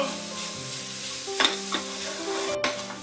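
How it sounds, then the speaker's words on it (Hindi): Crumbled mawa being roasted in a pan over a low gas flame, with a soft steady sizzle and a few louder scraping stirs of a spoon against the pan. "अब हम हमारा क्रम्बल किया हुआ मावा डालेंगे और इसे थोड़ा सा भून लेंगे।"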